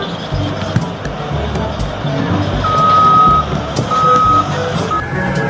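A toy sand truck gives steady reversing beeps, a repeated tone in short bursts over loud clattering play noise and handling.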